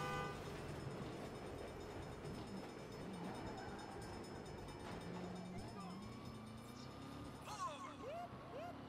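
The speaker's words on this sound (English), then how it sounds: "Hell of a time for a train." A train passing in the Saints Row video game, a continuous low rumble of rolling cars with a horn-like tone sliding in near the end, mixed with game sound effects.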